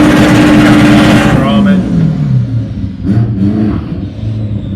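Drag racing cars launch down the strip at Santa Pod, a loud engine roar swelling then falling away in pitch as they pull off, with a second surge of revving following and a commentator talking over the noise.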